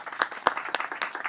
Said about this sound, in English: I would ask you to give them a big round of applause as well